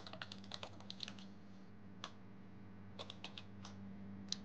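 Quiet, close clicks of a computer keyboard as a project title is typed into Dorico music notation software, arriving in short irregular bursts with brief pauses between them and no talking.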